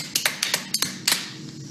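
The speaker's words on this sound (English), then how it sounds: "We'll at least clap." Scattered, sparse handclaps from an audience at a JFS of Metrowest annual meeting, several separate claps over a couple of seconds, moderately close and thin rather than a full round of applause.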